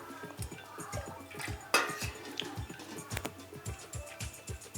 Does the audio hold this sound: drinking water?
yes